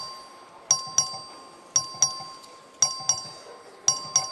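A voting bell rings in the Texas House chamber in four paired double strikes, each bright ding ringing out and decaying over a quiet room murmur.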